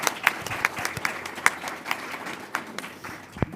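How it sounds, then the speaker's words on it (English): Audience applause with scattered sharp claps rising out of a steady crowd clatter, moderately loud, fading slightly toward the end. "let's give them a round of applause."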